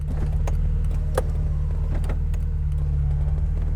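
A 2007 Honda S2000 convertible top motoring down: a steady electric whir over a low idling hum, with several sharp clicks and latch knocks along the way.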